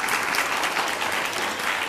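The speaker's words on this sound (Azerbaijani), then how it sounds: "Bir alqışlar gəlsin sizi görək." Dense, continuous applause fills a television studio as the audience claps together, a loud, even wash of many hands with no talking over it.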